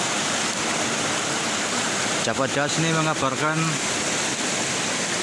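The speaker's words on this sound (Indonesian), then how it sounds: "Sungai Pemali banjir ya." The flooded Pemali river in Brebes, Bumiayu, roars as a steady, loud wash of rushing water, and someone speaks briefly partway through over the constant torrent.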